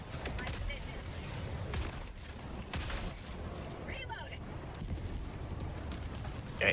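Constitution rifle shots in Helldivers 2, several sharp reports scattered through dense, noisy battle audio, with voices talking over the action.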